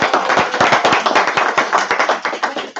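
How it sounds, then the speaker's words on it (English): An audience at a real estate meeting in Fort Lauderdale gives a dense round of applause, many hands clapping together loudly and steadily for the whole stretch. "last big round of applause for Adrienne."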